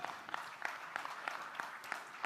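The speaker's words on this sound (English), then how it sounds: "give a thunderous round of applause" Steady applause from an audience, a continuous patter of clapping with no voices over it.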